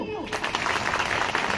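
Crowd applause breaks out at an outdoor political rally in Kutiyana, a dense sustained patter of many hands following a brief voice at the start.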